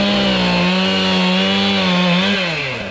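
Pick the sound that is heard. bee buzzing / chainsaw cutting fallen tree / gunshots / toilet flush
chainsaw cutting fallen tree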